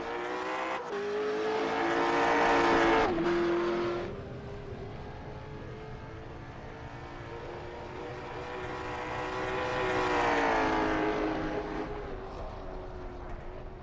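A race car running laps during the Moonlight Derby 100 at the 2024 Sunshine Derby: a droning engine swells louder as a car passes close, fades slightly, then builds again with another roaring pass, sustained throughout with no talking.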